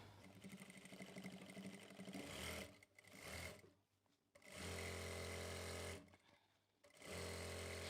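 A sewing machine stitches a chakvi salwar in loud, steady motor-driven bursts, with short pauses between runs and no talk.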